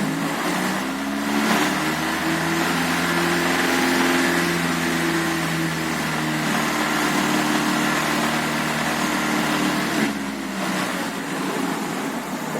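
A car engine running on CNG, a steady close idle hum with a low droning drone holding evenly throughout, slight shifts in tone near the start and end as it moves toward cruise.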